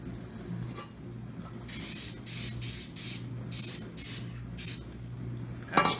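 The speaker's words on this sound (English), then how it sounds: "I'm going to spray that with some coconut cooking spray." Coconut cooking spray hisses from an aerosol can into a baking pan in a home kitchen, in about seven quick, close bursts of similar length separated by short gaps, heard alone.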